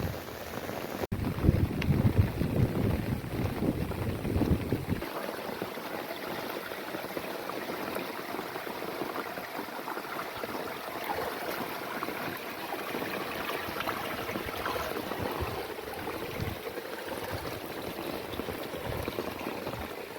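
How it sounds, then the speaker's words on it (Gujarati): Steady broadband hiss of heavy rain pouring down outdoors over a waterlogged peanut field, constant and fairly loud throughout, with a lower rumble fading after the first few seconds. "તો આવો કંઈક છે અમારો વરસાદ"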